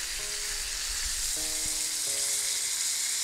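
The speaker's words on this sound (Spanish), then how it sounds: "La voy a empezar a freír todo el contorno." A chimichurri-injected T-bone steak sizzles loudly and continuously in a hot pan, a dense close frying hiss with occasional faint tones under it.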